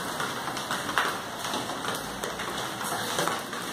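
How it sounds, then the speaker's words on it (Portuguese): Rain falls on a roof of American-style tiles, a dense, even patter with scattered louder drops, steady throughout and with no voices. "Está chovendo agora."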